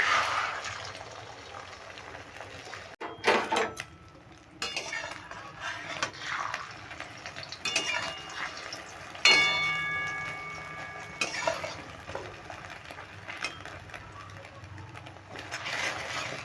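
Beaten egg is stirred in hot oil in a pan for egg bhujia, giving a faint sizzle with scattered light scrapes and clinks of the spatula against the pan.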